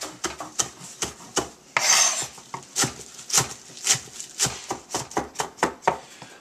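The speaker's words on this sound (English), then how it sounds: "Start chopping everything up and putting it right in" Knife chopping ingredients on a cutting board for a rib dish, a brisk run of sharp, close taps in uneven rhythm with a brief scraping sweep, no talk.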